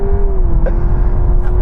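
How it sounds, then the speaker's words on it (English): A new Honda Prelude hybrid's synthetic engine sound hums steadily as it accelerates, a smooth rising drone heard from inside the cabin. "It sounds like the old car, but that noise is fake."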